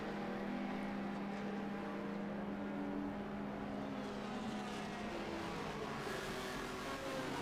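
A Reynard 981 Indy car at speed through Canada corner at Road America during a vintage racing event, its engine a steady far-off drone under continuous crowd and ambient noise throughout.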